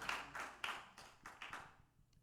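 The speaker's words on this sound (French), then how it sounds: "Prière de manifester quand même par vos acclamations." Church congregation at a Sunday service clapping in uneven bursts, a handful of sharp quiet claps rising and fading, growing sparser at the end.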